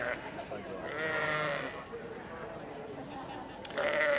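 Several ewes bleat in bursts at a busy agricultural livestock show, the Royal Highland Show, their calls rising over a crowd murmur while a commentator talks over them.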